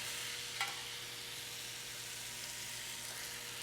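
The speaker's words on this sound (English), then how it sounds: "So I'm going to lay this down on the grill." Meat coated in raspberry barbecue sauce sizzles steadily on a grill, a soft continuous hiss with one small pop near the start, heard alone without talk.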